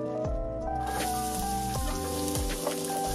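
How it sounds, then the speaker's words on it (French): Onions tumble into hot oil and sizzle steadily for smoked sausage beans, a close crackling hiss with soft clatters and scrapes mixed through. "dans cette huile chaude, nous allons rajouter des oignons"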